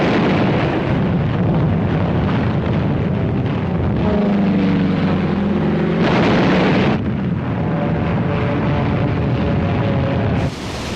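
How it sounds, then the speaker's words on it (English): Massive aerial bombardment at Iwo Jima in 1945: a dense, loud, continuous roar of explosions mixed with droning aircraft engines, rumbling without pause and swelling in bursts. "Wave after wave of American aircraft paved the way with a massive aerial bombardment."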